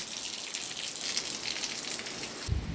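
Water running from a faucet outdoors by a cement floor, a steady hissing splash, fairly faint and continuous, ending with a brief low knock.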